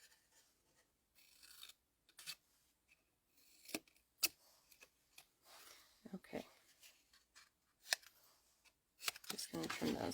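Scissors snip paper trimmings for a small craft treat box in a quiet room, giving scattered sharp clicks and short cutting rasps with soft paper rustling, growing busier toward the end.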